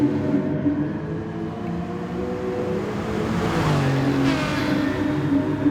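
A race car engine in a sim racing game at Spa strains at full throttle, a loud, continuous drone that climbs in pitch. Near the end a faint squeal of tyres rises above it.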